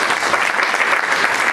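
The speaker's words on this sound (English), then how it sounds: "Please give an applause to Rojean to welcome her" Audience applause welcoming a paper clay artist, a dense steady wash of many hands clapping for a short stretch with no talk over it.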